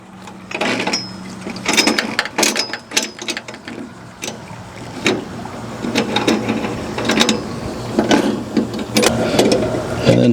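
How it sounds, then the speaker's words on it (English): A Magma grill rail mount being tightened onto a boat rail, giving repeated metallic ratcheting clicks and scraping turns in uneven bursts, fairly close and loud, with no talking. "And then tighten this part right here."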